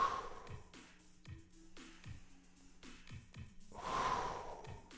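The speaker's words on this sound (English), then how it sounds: "Try to control the breathing." During a strength endurance workout, someone breathes heavily through push-up repetitions, with rhythmic gasping inhales and exhales and faint thuds, the breathing growing louder toward the end.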